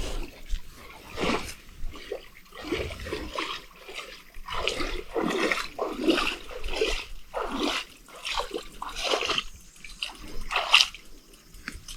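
Barefoot wading through shallow Baltic Sea water, with irregular splashes and trickling sloshes rising and falling close by, while people talk intermittently.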